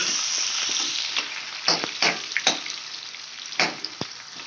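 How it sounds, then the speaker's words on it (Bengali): Chopped onion frying in oil for a Bengali katla fish curry, a steady close sizzle with a few sharper spatters and utensil clinks scattered through, no voices. "এই পেঁয়াজটাও আমি তেলের মধ্যে দিয়ে দিলাম তো পেঁয়াজটাকে আমি ভালো করে ভেজে নেব"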